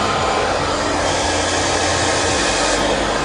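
A hair dryer blasts loudly and steadily at close range while hair is blow-dried section by section with a round brush, a constant whooshing roar with no talking.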